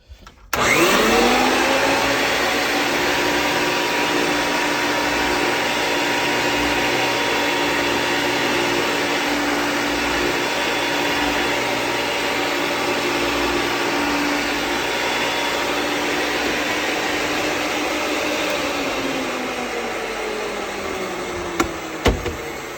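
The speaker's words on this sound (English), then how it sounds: "this is just such a super duper heavy duty pipe cutter, it's super easy to do even with one hand" An early-style Ridgid 535 threader machine runs continuously while cutting thick metal pipe, a loud steady motor whine with a rising pitch at startup and a winding-down tail near the end, no voices.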